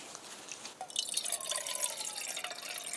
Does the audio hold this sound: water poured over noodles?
yes